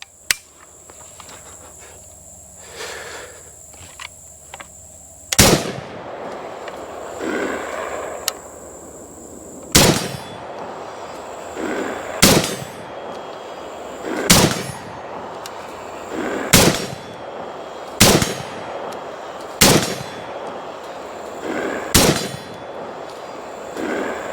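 A Zastava ZPAP85 pistol fires 59 grain full metal jacket rounds outdoors, each sharp shot followed by a ringing clang off a steel plate. The shots come at a steady, fairly regular pace over chirping insects.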